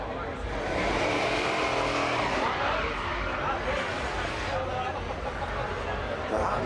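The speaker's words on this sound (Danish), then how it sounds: "Og så bliver der varmt dæk op." Drag racing cars at a strip roar through tyre-warming burnouts, a dense, continuous engine and tyre noise at close range, with a commentator talking over it.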